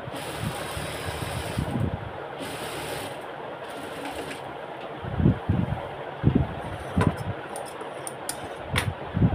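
A sewing machine stitches a kameez up close, running in short bursts and pauses, with the faster runs in the second half standing out over a low steady hum.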